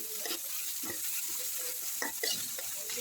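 Chopped onion with garlic paste frying in a pan, stirred with quiet intermittent scrapes over a low steady sizzle, no voices.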